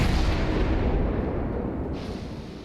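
Heavy naval gun salvo from a warship in World of Warships, a loud sustained rumbling blast that slowly decays over a couple of seconds, with no talk.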